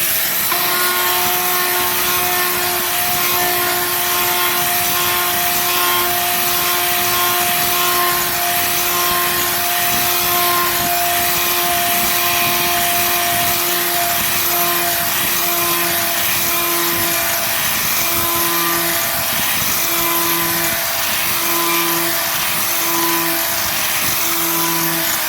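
A close, loud angle grinder smooths a cast iron skillet, whining and grinding continuously at a constant high pitch with a rough rubbing edge. No speech is heard.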